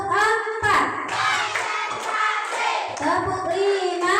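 A classroom group claps in a counted rhythmic chant, bursts of hand claps alternating with children's voices calling out in unison, close and lively.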